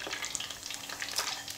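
Curly parsley dropped into deep fryer oil, a short burst of bright crackling sizzle with quick pops and spatters, close and fairly quiet, no talking.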